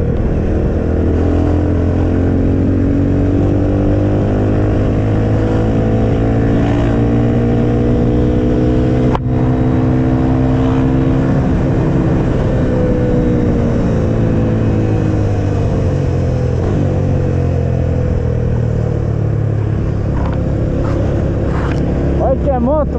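Motorcycle engine while riding on a road in São Paulo, 250 cc bike, a loud steady drone with shifting pitch and wind roar throughout, with a voice talking over it.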